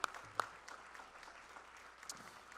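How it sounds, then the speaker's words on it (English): Audience applause fills a middle school spring concert in an auditorium after the student musicians perform, a soft, steady patter of clapping with a few sharper claps standing out early on. "So one more round of applause for this amazing musicianship filled with joy and fun."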